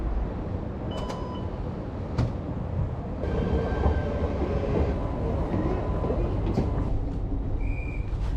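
Interior of a train riding to Delft, a continuous rolling rumble and rattle with scattered clicks and brief tonal chimes or beeps, steady and close, with some faint voices in the background.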